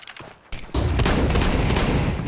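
Shotgun fire in Counter-Strike at the IEM Katowice 2025 esports tournament: a quiet, scattered opening gives way to a dense, loud burst of blasts and booms that runs to the end.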